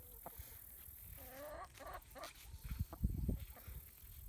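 Chickens on a homestead cluck and murmur close by, a few soft croaking calls early on building into a busier cluster of clucks near the end.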